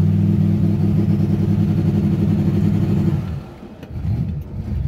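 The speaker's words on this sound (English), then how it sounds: "So we're going to hit the button and then we're going to go full throttle." A car engine fitted with a Holley Sniper setup holds full throttle as boost builds, a loud steady drone with rapid pulsing that drops away sharply after about three seconds, then returns at a lower roar.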